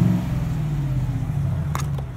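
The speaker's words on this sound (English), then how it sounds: "You can hear that Borla exhaust." A warmed-up 2018 Chevrolet Tahoe RST Performance Edition with a Borla exhaust idles in a steady, deep low rumble, loud and close, with a couple of faint clicks near the end.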